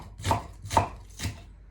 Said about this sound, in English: you want to cut all the vegetables similar size